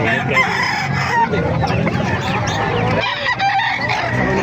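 Several roosters at a gamefowl market in Calumpit, Bulacan, Philippines, crow and cluck over one another in a dense, loud, continuous din, with a voice occasionally mixed in.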